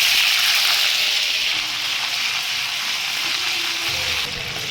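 Ginger and green chili paste hits hot oil already seasoned with whole garam masala, giving a steady, loud hissing sizzle that holds throughout and eases slightly at the end.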